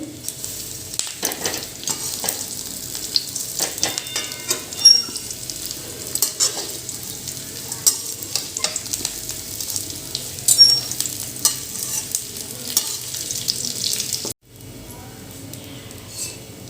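Dried onion and coconut roasting in plenty of oil for homemade Solapuri black masala, a loud continuous sizzle with scraping stirs and clinks throughout, then a sudden drop to a softer fry near the end.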